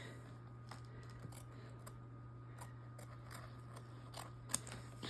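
Quiet, crisp snips of scissors cutting fabric for a zip bag come in a loose irregular rhythm, close by, over a steady low electrical hum.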